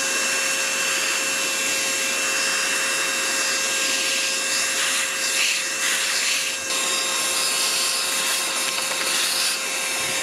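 A Lidl Parkside PNTSA 20-Li cordless wet and dry vacuum sucks up wood chips, giving a steady, loud motor whine with a constant airflow hiss throughout.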